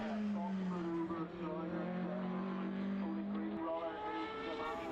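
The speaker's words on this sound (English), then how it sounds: "Carey is rumbling the strips on the way out of that chicane" A Formula BOSS single-seater race car rumbles over kerb strips exiting a chicane, its engine tone steady and loud with a rough buzzing texture, while a commentator talks over it throughout.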